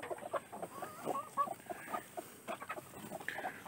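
Several hens cluck and murmur in a quiet, uneven chatter, with soft overlapping calls from a nearby flock.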